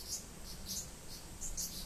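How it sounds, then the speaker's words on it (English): Cicada in a Japanese summer, a faint high-pitched chirring in short pulsing bursts over a quiet outdoor background. "That's a cicada."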